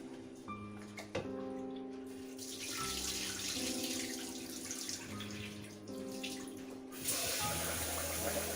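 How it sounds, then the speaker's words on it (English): Rice being squished and rinsed by hand under a running tap at a sink, a steady close stream of water with sloshing and swirling, louder bursts where the flow hits the bowl. "squishing this rice and washing it to get rid of all the surface starch"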